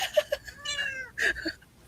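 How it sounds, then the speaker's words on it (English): A house cat meows several times in a row, short rising and falling cries close by with brief pauses between them and no talking over them. "She just turned into a lap cat recently for some reason."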